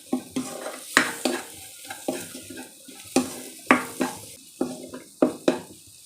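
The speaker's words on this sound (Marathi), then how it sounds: "एक मध्यम आकाराचा कांदा बारीक चिरलेला हे छान परतवून घ्यायचं आहे" Finely chopped onion sautéed in a pan, the soft oil sizzle punctuated by a dozen or so sharp, rhythmic scrapes and taps of a spatula against the metal, close up and alone.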